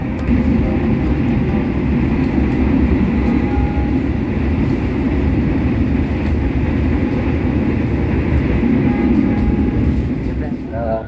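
KA Lodaya passenger train running on the Solo–Klaten track, heard from inside an executive car: a steady, loud rumble of wheels and carriage noise throughout, with faint voices in the background.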